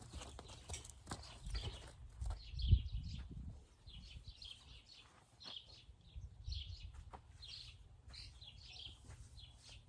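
A two-year-old mustang steps and shifts its hooves in a training pen, soft irregular clip-clops over faint chirping birds outdoors, fairly quiet and close.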